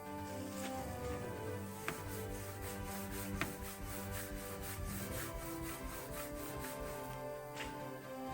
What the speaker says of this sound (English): Makes it fun to sand that flat when the panel moves that much.